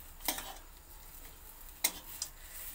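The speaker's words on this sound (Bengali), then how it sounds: "চিনিটা দিয়ে আবারও নাড়িয়ে নেব" A spoon scrapes and stirs spiced mashed-potato chop filling in a pan after sugar is added, giving a few soft clinks and scrapes over a faint, steady background hiss.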